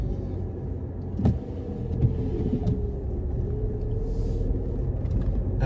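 A car pulls away on a snowy road, its engine a steady low rumble from inside the cabin with a faint rising tone as it gains speed, plus a couple of soft bumps.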